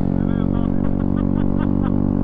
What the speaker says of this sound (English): your exhaust is so drony